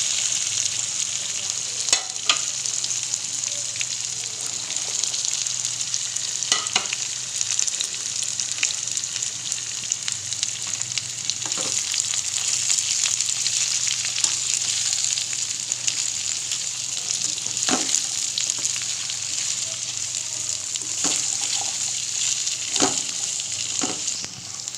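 Chopped mixed vegetables frying in a pan for a village-style mix veg sabji, a steady hissing sizzle with occasional stirring clacks and scrapes every few seconds, no talking.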